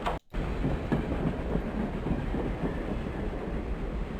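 A monorail train in the Gadget: Invention video game gives a steady, close rumble with faint rail clatter that runs without a break after a brief dropout at the start.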